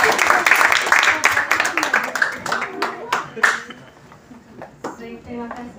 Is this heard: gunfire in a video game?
no